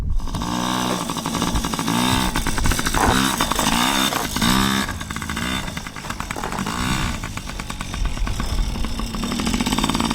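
A dirt bike at a backyard dirt jump with a loud, close engine that revs hard and buzzes in repeated rising and falling pulls for about ten seconds.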